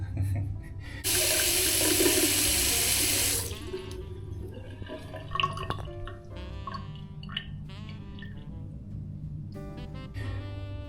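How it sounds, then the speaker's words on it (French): Water pours from a tap in a clean hotel shower room, a steady, close gush that lasts a couple of seconds, then cuts off, leaving faint clinks and handling sounds. "L'eau coule, pas de problème, l'eau coule."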